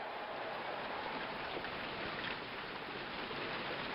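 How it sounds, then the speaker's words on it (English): Steady rain ambience from a baseball video game: an even, dense hiss of falling rain at moderate level, continuous and unbroken with no voices. "It's been raining here for a while."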